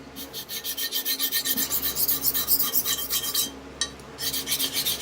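Rhythmic rasping strokes of a warped straight razor's steel bevel ground against the edge of a sharpening stone, steady back-and-forth scrapes repeating close up, with a brief pause near the middle.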